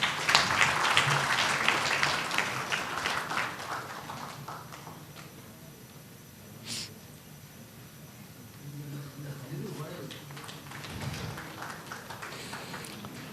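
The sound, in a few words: audience applause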